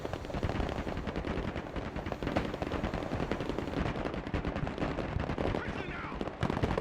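Dense, continuous automatic gunfire from a battlefield in the Broken Arrow military strategy game, during a Delta Force helicopter drop, with overlapping rapid shots and occasional heavier bangs under a radio-style voice.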